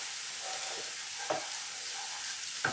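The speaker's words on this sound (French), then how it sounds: "On rajoute aussi l'ail. Et on fait revenir ceci." Garlic fries in a pan for a Tunisian chicken and potato tajine, with a steady, moderate sizzle and a few brief stirring clicks, close by and with no talk.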